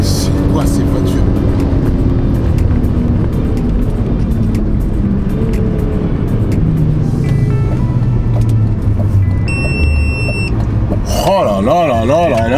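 BMW M3 E46 sports car with a manual gearbox, heard from inside as the engine pulls loudly and steadily through revving runs, then winds up sharply near the end, with excited talk over it.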